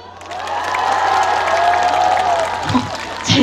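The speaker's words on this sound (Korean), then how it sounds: "자, 우리 문경 가족 여러분들 함성!" Festival concert crowd at the Mungyeong Dollinae wetland festival cheering and shouting loudly for a singer, a sustained roar of voices with whoops and applause building steadily and staying near and full throughout.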